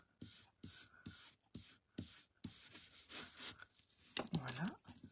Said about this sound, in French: Je vais faire une petite ombre avec ma brosse estompe.